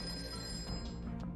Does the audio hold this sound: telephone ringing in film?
yes